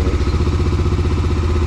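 A motorcycle engine runs close by with a steady, rapid low putter and even rhythmic pulses throughout, loud and alone without talk.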